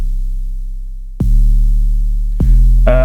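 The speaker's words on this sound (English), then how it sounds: "then I have made a bass in Serum," Simple synth bass built from white noise in Serum for a future bass drop, with deep sustained low tones struck three times, each hit swelling loud and ringing out, the last adding a brighter noisy layer.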